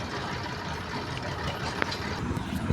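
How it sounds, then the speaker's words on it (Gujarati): A tractor's diesel engine idles with a steady low rumble and chug, close and continuous, with a few small knocks near the end. "સીધો ટ્રેક્ટરમાંથી જ બ્લોક ચાલુ કર્યો"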